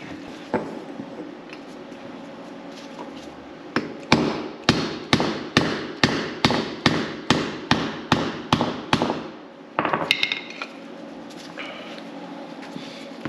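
A front wheel bearing part on a W202 Mercedes C43 AMG is knocked out with a hammer. A dozen or so loud metallic strikes land close by in a steady rhythm, then a quick flurry of lighter taps over a constant background hum.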